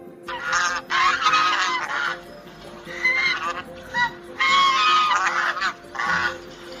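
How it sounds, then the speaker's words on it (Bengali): Several loud, nasal goose honks come in bursts with short pauses between, close by and harsh. "এটা রাজহাঁসের ডাক"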